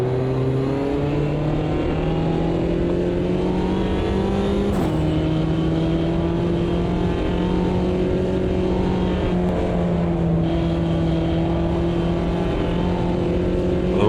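Steady front-wheel-drive race car engine in Automobilista 2, racing a Mini at Guaporé, holds a loud continuous drone with rising pitch, a sharp gear-change drop near five seconds, then climbing revs again, no talk.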